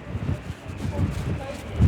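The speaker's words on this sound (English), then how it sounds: "It's very, very windy right now." Wind roars and buffets the microphone at a football match with a low, continuous rumble, loud and close, with a voice faintly mixed underneath.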